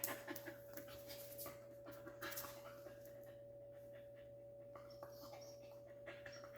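A dog panting rapidly and steadily while waiting for a treat, close and fairly quiet, with a faint constant electrical hum underneath and a few soft shuffles.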